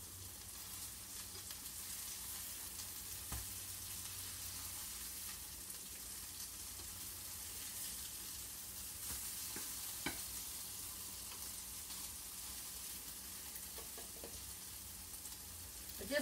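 Hamburger patties frying in a pan make a soft, steady sizzle that continues without a break, with a few faint pops and clicks.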